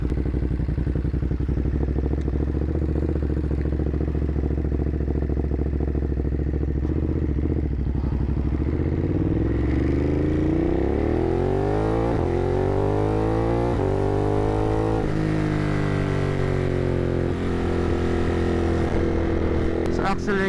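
A 2021 Ducati Monster 937 motorcycle engine drones steadily, then revs upward through rising accelerations, loud and close, with someone talking over it.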